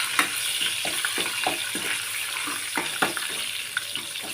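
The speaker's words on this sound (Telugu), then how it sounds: "ఆయిల్ కాగింది. పోపు వేసేసుకుందాం." Tempering spices crackle and fry in hot oil for a sambar, a steady dense sizzle dotted with sharp pops and spits that come close and fairly loud, with no one talking.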